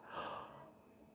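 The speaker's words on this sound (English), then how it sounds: "You can fake yawn." A drawn-out fake yawn, one breathy exhale that swells early and then trails off softly over about a second, heard alone with no talking.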